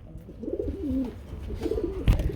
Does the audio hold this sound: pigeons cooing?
yes